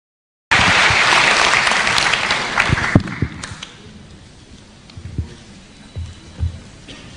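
A university campus audience in Indonesia breaks into loud, dense applause that holds for a couple of seconds, then thins out into scattered claps and fades to quiet.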